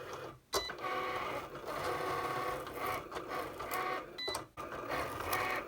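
A Cricut Explore cutting machine slices fabric with a bonded fabric blade, giving a steady mechanical whir and buzz with brief pauses as the carriage changes direction, close and moderately quiet with no talking.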